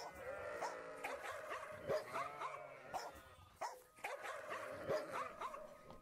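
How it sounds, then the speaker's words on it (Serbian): Dogs bark sporadically while sheep or goats bleat, with repeated calls spread across a busy outdoor scene that sounds moderately distant. "čuo sam po koji lavež psa i zvuk marve"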